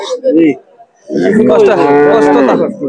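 Cattle low loudly and close by at a rain-soaked cattle market in Bangladesh, one short moo followed by a longer, drawn-out one.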